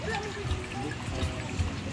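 Water steadily pouring and trickling, fairly close, with a busy background of voices and clatter.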